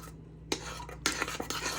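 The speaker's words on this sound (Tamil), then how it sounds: "இப்போ இதை நல்லா மிக்ஸ் பண்ணிக்கலாம்." A utensil stirs garlic paste with tamarind water in a cooking pan for a garlic thokku, giving a few sharp metallic clinks and scrapes after a quiet start, close and without talk.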